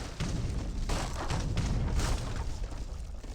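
Heavy cannon fire in an Age of Empires 3 match between Maltese and Mexican armies, with dense, continuous booms and thuds layered into a loud battle din throughout.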